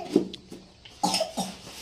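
Soft, fairly quiet coughs come at home, two short hacking bursts spaced about a second apart with faint room noise between them.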